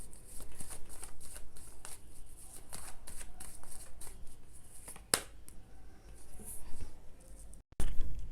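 Tarot cards are shuffled close by in a run of quick riffling flutters and soft slaps, followed by a sharp snap, some quieter handling and a sudden thump at the end.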